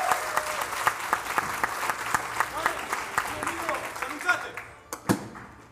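A crowd applauds gladiators at an arena combat show, sustained clapping from many people close by, with speech mixed in and the applause thinning out toward the end.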